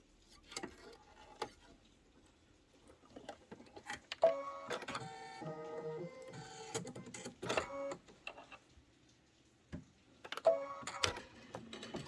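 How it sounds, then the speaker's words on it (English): An embroidery machine quilting stitching on a bench pillow project, with quiet stretches between bursts of rapid mechanical whirring and tapping, close and moderately faint. "we're doing our quilting stitching"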